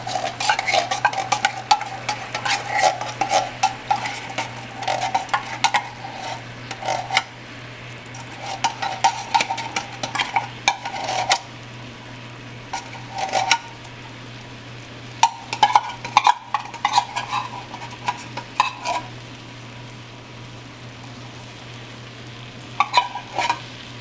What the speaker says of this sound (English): Out of the can, and I'm just going to start stirring it, and now I'm going to turn it to medium.